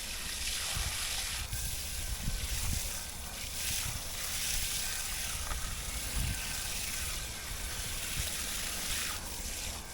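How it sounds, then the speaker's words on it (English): Water streams onto the roots of freshly potted bamboo, making a continuous gentle splashing and trickling hiss with small surges, close by but fairly quiet, and no one speaking. "I want to get the water on the roots"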